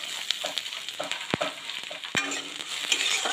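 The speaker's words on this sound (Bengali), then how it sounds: "রসুনটাকে একটু ভেজে এবার দিয়ে দিচ্ছি পেঁয়াজ কুচনো।" Chopped onion and garlic sizzle in hot oil. Steady close frying hiss is broken by a few clinks and scrapes of stirring, with no talking.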